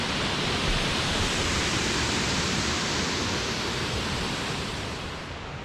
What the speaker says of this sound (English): the waterfall's right there, and it's perfect for swimming.